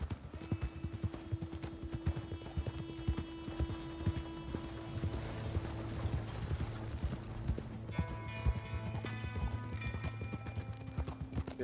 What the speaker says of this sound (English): I'm trying to ride the horse and follow this guy